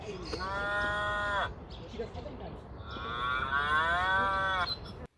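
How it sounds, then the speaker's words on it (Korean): Two electronic cow moos from a rotary button on a Papaya Nine BMW X5 toy push car, each a long tonal call, separated by a short pause with faint clicking between them. "소 울음소리"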